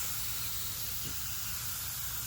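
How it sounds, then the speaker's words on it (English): Steady soft hiss of a fine water mist spraying onto fenugreek seedlings, continuous and close, with no talking. "please make sure that you use like a mist"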